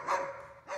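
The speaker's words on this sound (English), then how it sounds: "Oh, you heard my dogs." Dogs bark in the background, a brief burst of yapping heard alone at moderate distance.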